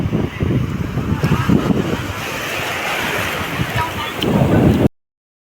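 Sea waves wash ashore at a beach in shallow water, a rushing surf roar mixed with wind buffeting the microphone, swelling near the end before cutting off, with voices nearby.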